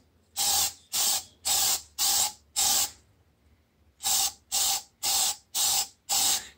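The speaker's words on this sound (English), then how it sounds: "I'm just spraying back and forth" An aerosol can of spray paint hisses in ten short, even bursts onto a stained ceiling, five in a row, a brief pause, then five more, close and fairly loud.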